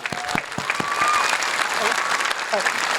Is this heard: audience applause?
yes